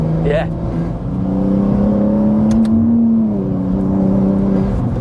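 BMW G87 M2 in 610 bhp Clubsport spec with a mid-pipe exhaust, on semi-slick tyres along a bumpy, damp road, accelerating with a loud, steady engine drone that rises and holds close by, while someone talks over it.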